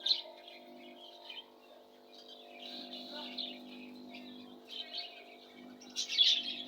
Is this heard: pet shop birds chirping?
yes